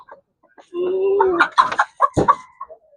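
A rooster gives a few short clucks and throaty calls up close, in brief bursts separated by quiet gaps.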